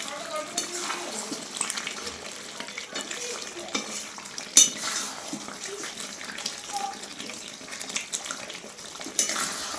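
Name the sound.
large chicken pieces being stirred and sautéed with spices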